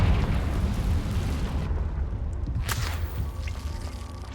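A Confringo blasting spell goes off in Hogwarts Legacy: a sharp, loud burst over steady low rumbling game ambience, followed by a fading tail.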